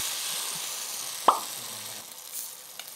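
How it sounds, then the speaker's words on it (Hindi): A spice tempering (chhaunk) for idli sizzles softly in hot oil as a steady faint hiss, with one sharp plop partway through. "लाया छौक करके चौक।"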